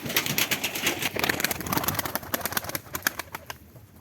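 Konya Arabı pigeons take off after feeding, a burst of close, rapid wing flaps and clattering that continues in quick waves across the stretch, with soft cooing mixed in.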